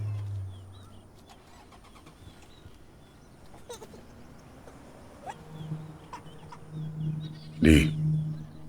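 A car engine cranks and catches in a Malayalam film scene, rising to a short loud burst near the end over a quiet outdoor background with faint bird calls.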